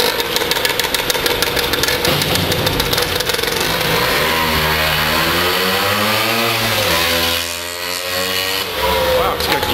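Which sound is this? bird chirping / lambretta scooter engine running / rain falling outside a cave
lambretta scooter engine running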